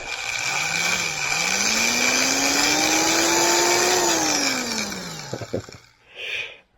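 A power drill drives a screw into a pipe held in a vise: a loud, steady motor whine rises in pitch as it spins, then winds down and stops, followed by a few clicks and a brief rustle.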